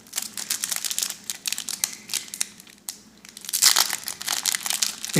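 1992-93 Fleer Ultra hockey card packs are ripped open up close, giving fast crinkling, crushing wrapper noises and sharp tearing in quick bursts, with a louder rustle near the end.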